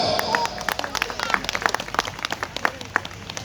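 Audience applause at a Buddha Jayanti community gathering in Kharegaon, Kalwa: a dense, steady burst of many hands clapping close by, lasting the whole moment and tapering slightly toward the end.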